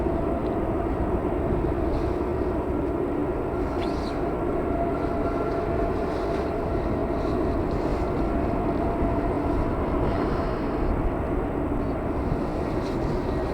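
Steady, broad jet engine roar from a British Airways jet heading out at Manchester Airport, continuous and unwavering for the whole stretch, with faint distant chirps above it.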